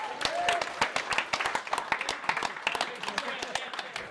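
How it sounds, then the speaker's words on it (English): Audience applause at an MMA fight event, a loose patter of claps rising and tapering over a few seconds beneath a steady stream of talk. "John, can we give John a round of applause?"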